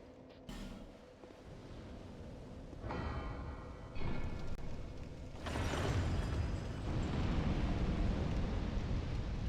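A fire mechanism activates in the video game Dark Souls 2 with a low resonant clang, then a swelling roar of flame that builds and sustains loudly to the end, with no speech.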